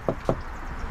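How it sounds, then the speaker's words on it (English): Two sharp knocks on a door, close and distinct, spaced about a fifth of a second apart, followed by quiet room ambience. "And I'm knocking the door"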